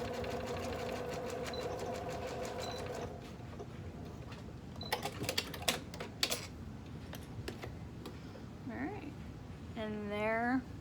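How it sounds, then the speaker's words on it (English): A sewing machine stitches knit binding along the edge of a bralette, a steady mechanical hum at first, then scattered clicks and taps with a voice speaking briefly near the end. "You want to sew right along the edge where all those pieces come together."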